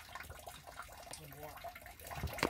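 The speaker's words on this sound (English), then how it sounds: "It sounds like somebody's piddling in the background, but it's actually just the evaporator pan emptying out." Water draining and trickling out of a maple syrup evaporator pan during a boil, a continuous splashy gurgle with a louder burst of water near the end.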